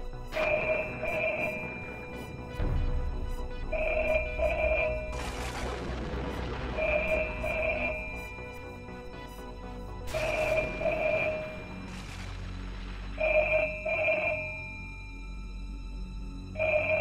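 A landline telephone rings repeatedly inside a house, pairs of electronic trills recurring at regular gaps, with deep thuds and swells of eerie horror-drama music around them.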